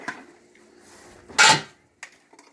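A utensil clinks and scrapes against a soup pot while meatballs are stirred into the soup, a few brief close knocks with a louder clatter in the middle.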